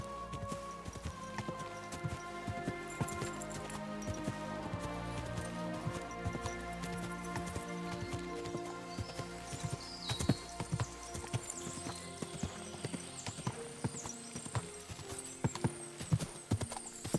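Horse hooves clip-clop steadily under a rider in Kingdom Come Deliverance 2, a medieval setting, with layered game music and ambience; the hoofbeats are regular and moderately close, with a brief whinny-like tone later.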